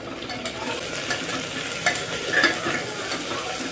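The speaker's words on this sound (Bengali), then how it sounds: "তো আমার মেয়ের জন্য এখন চিকেন হচ্ছে।" Chicken cooking in a pan for a home meal gives a steady broadband sizzle with occasional stirring scrapes and clicks, close and moderately loud, with no talking.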